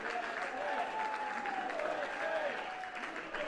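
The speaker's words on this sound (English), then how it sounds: "People are clapping." Crowd clapping at a 2020 US presidential election-night event, steady applause throughout with a murmur of voices and a faint talking voice in the mix.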